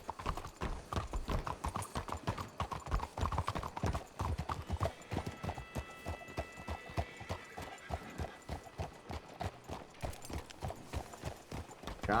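Horse hooves clop rapidly and steadily in a galloping rhythm, loud and close, continuing throughout with no talking, in the video game Red Dead Redemption 2 roleplay server WildRP.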